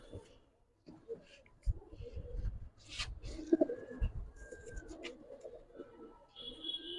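Pigeons coo softly in low, repeated bursts, broken by wing flutters and scuffling close by, while a voice is heard faintly in the background.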